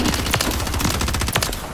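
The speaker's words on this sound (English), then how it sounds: "He's shooting at me again." Enemy gunfire in Modern Warfare III, a loud rapid burst of automatic shots crackling close by in a steady stream.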